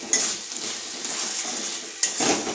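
A utensil scrapes and clinks against a cooking pan while meat masala and ghee are stirred in, over a steady soft sizzle, with two sharper metallic knocks near the start and end.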